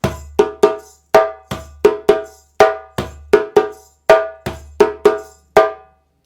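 A djembe plays a classic West African accompaniment pattern of sharp, ringing slaps and tones, grouped in quick uneven pairs and singles in a repeating cycle, close and clear with no voices.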